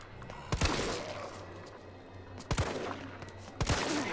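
Three sharp gunshots in the Resident Evil 3 Remake video game, spaced about a second or two apart, loud and close against a low steady hum.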